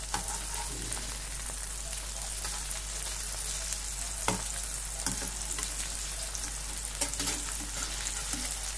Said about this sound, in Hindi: और इस हिसाब से डबल साइड आपको इस हिसाब से फ्राई करना है।